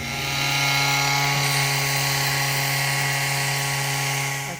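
Power sander working wood filler around a garage door, a steady droning whine with strong tonal hum held at an even, close level throughout, no voices.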